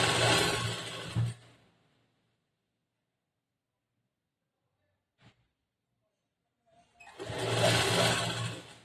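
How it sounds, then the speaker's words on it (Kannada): A sewing machine stitching a back-hook blouse in a tailoring class runs in two loud, rapid whirring bursts, one at the start and one at the end, separated by near silence and a single small click. "ಇದು ಸ್ಟಿಚಿಂಗ್ ಮಾಡಿ ತೋರಿಸ್ತೇನೆ"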